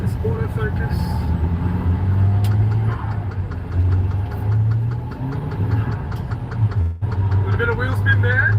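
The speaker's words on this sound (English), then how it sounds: "This car is a little bit loud in the cabin." Loud, steady engine drone and road noise inside the cabin of a 1990s Japanese-market rear-wheel-drive turbocharged car, continuous throughout with a brief dip near the end, a voice talking over it.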